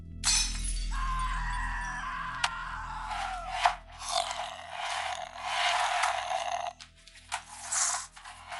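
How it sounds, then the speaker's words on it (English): Glass shatters loudly at the start, and clattering crashes follow as objects are hurled across a room. The breakage and impacts come in irregular bursts over a steady low rumble, with no voices. "there was the sound of glass shattering and objects being hurled across the room"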